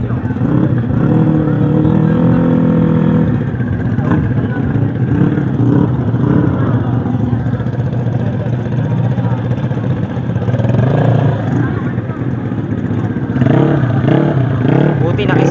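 Yamaha Mio scooter engines revving at a slow drag competition motorshow, a continuous loud buzzing drone over crowd noise and an announcer's voice.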